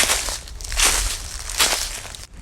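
Two or three slow, crackling steps crush dry leaves nearby, alone and fairly loud.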